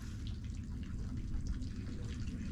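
Water boiling in a kettle or pot inside a rental camper van on a road trip near Shark Bay, Australia, a steady low rumbling bubble with a continuous hiss, close and alone with no voices.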